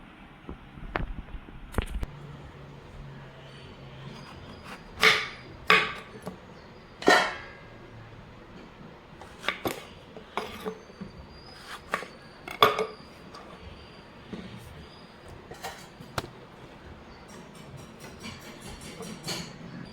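A knife cuts eggplant into pieces for sun-drying, giving irregular sharp, close taps and clicks on the board over a quiet background, with a few louder strikes in between and no voices.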